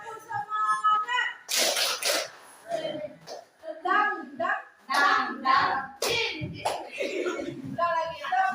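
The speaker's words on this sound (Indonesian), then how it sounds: "sekali lagi tepuk semangat." A group of Indonesian teachers or students performs a rhythmic spirit clap during a school session, with sharp bursts of clapping alternating with chanted voices in a call-and-response pattern, fairly close and lively.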